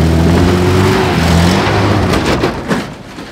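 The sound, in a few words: car driving past, engine revving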